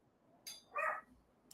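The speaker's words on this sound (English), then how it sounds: "There's a dog barking." A dog gives a single short bark at close range, with a faint clink just before it and quiet room noise after.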